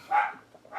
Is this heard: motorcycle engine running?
no